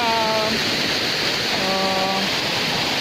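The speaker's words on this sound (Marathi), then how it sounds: "धबधबा पाणी बघा कसलं येतं आता" Steady roar of rushing, falling water from a Konkan waterfall fills the scene, broad and constant, with faint tonal hums drifting through.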